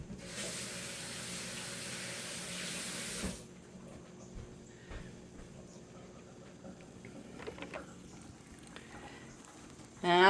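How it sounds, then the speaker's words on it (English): Hands rinsed under a running kitchen tap, a steady close hiss of flowing water for about three seconds that then stops, leaving faint room noise and small clicks. "rinse my hands real quick"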